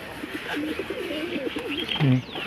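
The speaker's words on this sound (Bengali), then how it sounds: "দেখুন সব বন্ধ দমের পায়রা" Pigeons cooing up close in a loft, a run of soft rolling coos with a deeper, louder coo near the end over faint background noise.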